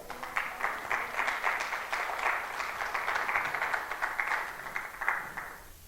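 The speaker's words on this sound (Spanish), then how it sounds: "Dele palmas al Señor si lo cree." A church congregation claps together in a steady burst of applause lasting several seconds before fading out, moderately loud and without speech over it.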